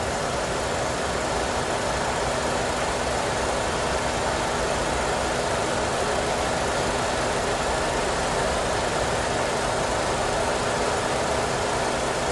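Chevrolet Cruze 1.8 LS 2012 with the 1.8-litre Ecotec petrol engine idling steadily, a smooth even hum with broadband hiss heard close up and alone, no talk.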